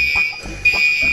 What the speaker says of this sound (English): The birthday candles has set off the fire alarm.